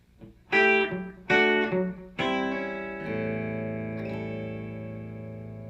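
Three snappy electric guitar notes in a chicken pickin rhythm, then a held note with a soft ghost note tucked in before it rings out. The playing is close and bright, with slight echo and no voices.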